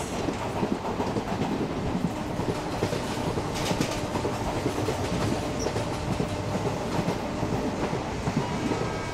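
A Sewagram SF Express passenger train overtakes a freight train near Bhusawal Junction, heard from on board as a loud, continuous roar of wheels and rushing air with rapid clickety-clack, close and unbroken throughout.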